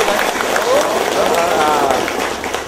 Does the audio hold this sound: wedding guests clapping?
yes